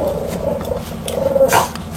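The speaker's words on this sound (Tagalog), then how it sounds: "Umiiyak yung aso." A dog whines and gives a few short barks nearby, a thin high cry running through most of the moment with a sharper yelp near the end, over light background noise indoors.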